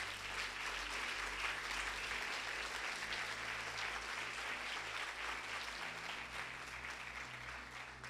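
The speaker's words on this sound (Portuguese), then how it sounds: "Você pode dar uma salva de palmas ao Senhor Jesus?" A church congregation applauds at length during a Portuguese-language sermon, dense steady clapping filling the room at even loudness, with a low hum or music underneath.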